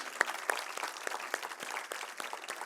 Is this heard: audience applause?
yes